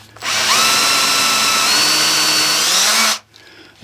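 A power drill with a sharp supplied bit bores into a Corvair cam gear, one loud, steady whine lasting about three seconds before stopping abruptly.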